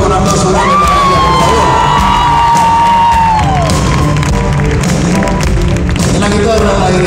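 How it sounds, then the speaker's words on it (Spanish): A concert audience at the Metropolitan in Mexico cheers and applauds loudly. Whistles, whoops and shouting voices ride over a continuous roar of clapping that fills the whole stretch. "Un aplauso grande para ella, por favor."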